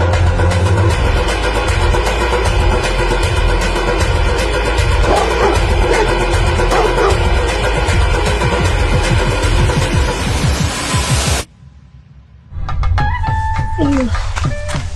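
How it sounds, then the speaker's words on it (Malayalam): A dog barks repeatedly amid loud street noise and voices, the yapping and whimpering bursts close and busy before the sound cuts briefly and resumes, in a roadside news report. "പട്ടി വരുന്ന ഓടിച്ചോ."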